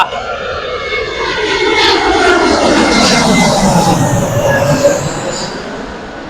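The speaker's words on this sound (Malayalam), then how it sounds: "അപ്പൊ പ്ലെയിൻ വരുന്ന കണ്ടോ" Loud airplane roaring overhead at Calicut International Airport in Kerala, a steady broadband engine rumble with a shifting whine as it passes close by.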